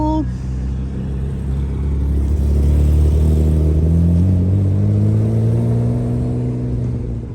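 A pickup truck engine hums steadily while it tows the Fast and Furious Toretto Mazda RX-7, its pitch slowly rising and falling with throttle, a close, constant drone with no talk.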